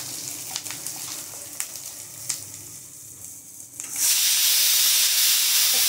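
Green chilli and onion hit hot oil in a pan for a chilli soyabean dish, a crackling fry that bursts into a loud, steady hiss and sizzle partway through.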